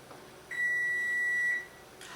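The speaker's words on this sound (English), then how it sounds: "The timer's gone off." A single steady electronic beep from a kitchen timer rings out for about a second, clear and close, with quiet room noise around it.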